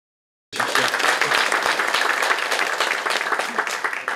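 Applause from the audience at an education community talk event, bursting in suddenly after a moment of silence and continuing as a loud, sustained clatter of many hands.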